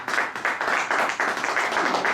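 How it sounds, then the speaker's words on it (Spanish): A church congregation claps for a short stretch, a fairly loud and even patter of many hands with a light rhythmic pulse. "Eso merece un aplauso para nuestro Señor."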